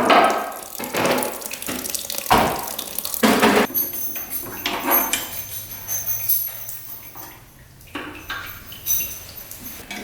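Dark old fluid drains from a 1966 motorcycle in a steady splashing, trickling stream, with a few clinks and knocks mixed in near the start, close and fairly loud with no speech.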